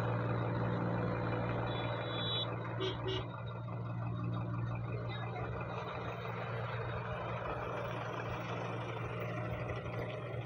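A Tata 909 truck reverses with a steady low engine drone, while a few short reversing beeps sound early on, partly masked by background noise.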